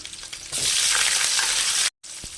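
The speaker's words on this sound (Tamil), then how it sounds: "இப்போ இது கூடவே கட் பண்ணி வச்சுருக்கிற ஆனியன் ஆட் பண்ணிக்கலாம்" Chopped onion hits hot oil with mustard seeds in a pan for cabbage rice, bursting into a loud, steady sizzle that fills the clip, with a brief silent gap near the end before the frying resumes.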